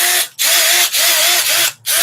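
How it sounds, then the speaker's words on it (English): A regular electric drill runs in short bursts, a loud high whine broken by three brief pauses, close up with no talk. "It's just a regular drill."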